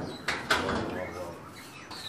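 Caged birds, magpie robins, straw-headed bulbuls and Bali starlings, chirp and coo in short bursts amid a busy, reverberant breeding facility, with a few sharp clicks and background chatter.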